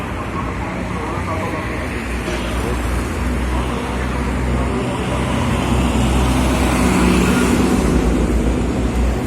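A city bus rushes past in a bus lane on a busy central Tbilisi street, its broadband roar swelling toward the end over continuous traffic noise.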